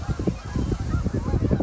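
A dense flock of barnacle geese honks continuously in rapid overlapping calls, loud and close, with no talking.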